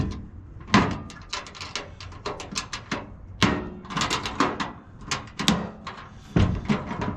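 Drawers of a Husky 3-drawer tool box slide in and out and clack shut, a string of sharp metallic knocks and rattles at irregular intervals, close and fairly loud with no voices.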